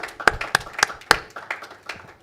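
Hand clapping from an audience at a conference event, a few loud close individual claps standing out from a light, thin patter of applause that fades out.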